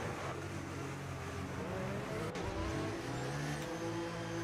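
Race cars in a racing video game roll down the pit lane under safety car conditions at the Mexico round, a steady layered engine drone with several overlapping motors and a faint tire chirp, no talk.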